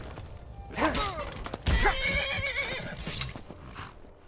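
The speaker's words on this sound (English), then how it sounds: "Go on, horse." A horse in Skyrim whinnies loudly and then neighs again, with hoofbeats clip-clopping beneath and a brief thud in the middle.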